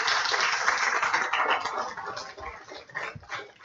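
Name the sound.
audience applause for the toppers at a seminar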